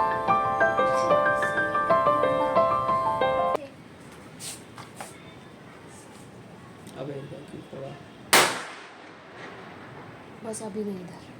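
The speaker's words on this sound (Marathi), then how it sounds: "बाहेरही फटाके फोडणे चालू आहे" Diwali firecrackers burst outdoors. A sharp, loud bang lands late in the clip after a stretch of music fades, with a few fainter pops and crackles scattered around it.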